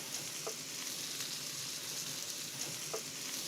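Zucchini sautés gently at the back of a hot pan, giving a steady, soft sizzle with a couple of faint clicks and no talk.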